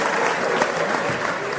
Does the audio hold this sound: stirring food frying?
no